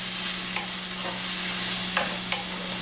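Vegetables for cabbage and dumplings sauteing in a pan, a soft continuous sizzle with a few light scraping stirs, close and alone.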